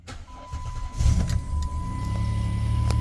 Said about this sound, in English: we're going to start it up, and we're going to take it for a little road test